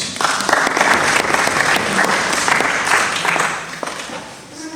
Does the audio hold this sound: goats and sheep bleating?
no